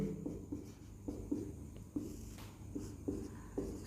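Chalk or marker tapping and scratching on a board as a Hindi grammar definition is written, short strokes in an irregular rhythm, close and moderately quiet with no talking.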